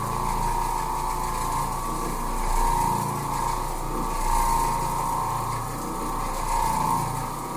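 Oreck Orbiter floor machine scrubbing a filthy carpet, a steady, close motor hum with a slow swelling whir as the pad sweeps back and forth.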